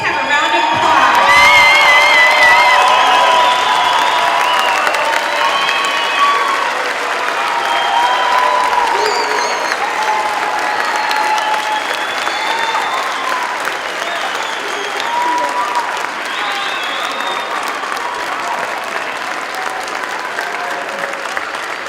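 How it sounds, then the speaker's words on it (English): A commencement crowd applauds and cheers as graduates stand to face family and friends, a loud, dense wash of clapping with whoops and shouted voices that holds steady throughout. "Let's have a round of applause."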